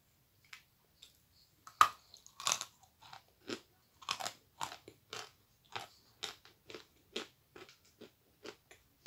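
Velvet chalk being bitten and chewed close to the mic, a series of crisp, dry crunches in an irregular rhythm against a quiet background.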